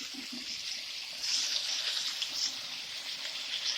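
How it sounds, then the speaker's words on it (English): Water pours steadily into a cooking pan for a few seconds, a continuous hissing trickle that swells slightly midway, with no talking. "Let me put a little more water in that."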